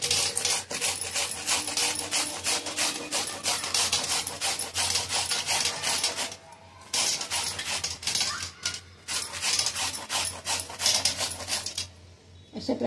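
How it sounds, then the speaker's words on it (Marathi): Onion and tomato are grated by hand on a kitchen grater, giving rapid, rhythmic rasping strokes close up, with short pauses between bursts. "मला थोडंसं जाडसर पाहिजे म्हणून मी ह्या किसणीवर किसून घेणार आहे कांदा आणि टोमॅटो"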